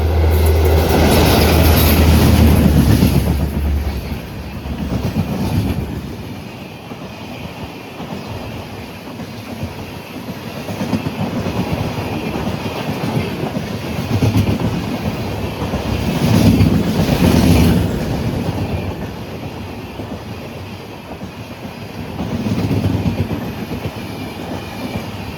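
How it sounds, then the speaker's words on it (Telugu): Bhagyanagar Express train running through a station, a loud steady roar of wagons and wheels with clickety-clack and some squeal, swelling and easing over about 25 seconds with no voices. "మన ఫస్ట్ ట్రైన్ భాగ్యనగర్ ఎక్స్ప్రెస్ అయితే వస్తుంది"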